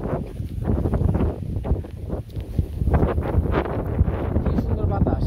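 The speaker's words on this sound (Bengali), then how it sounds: "কি সুন্দর বাতাস।" Strong wind on a rainy day in a Bangladeshi village buffets the microphone in uneven rumbling gusts, with a voice faintly mixed in under the roar.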